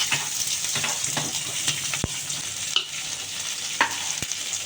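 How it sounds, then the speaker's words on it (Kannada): Onion and capsicum frying in oil with mustard seeds, a steady close sizzle with stirring and a few sharp utensil taps against the pan, no one speaking. "ಇವಾಗ ನಾನು ಇದಕ್ಕೆ ಆನಿಯನ್ ಮತ್ತು ಕ್ಯಾಪ್ಸಿಕಮ್ ಹಾಕ್ಕೊತಾ ಇದ್ದೀನಿ."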